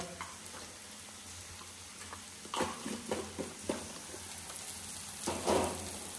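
Dry spices including turmeric sizzle in hot oil in a pan, a steady soft frying hiss broken by scraping stirs and occasional louder crackles, close but fairly quiet.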